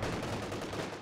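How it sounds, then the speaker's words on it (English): A support gun fires in the Company of Heroes 2 strategy game, heard as a dense, continuous rumble of gunfire packed into a single second, steady and fairly loud. "Oh, support gun."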